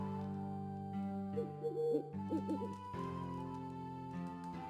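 Poppy the owl hoots in The Witcher 3, giving a few short, wavering calls in the middle of the moment over a steady droning music bed.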